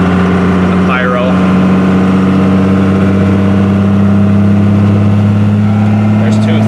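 A Cummins diesel truck engine with a BorgWarner turbo rolls gently into the throttle from about 1,800 RPM, a loud, close, steady droning roar that builds slightly as it pulls.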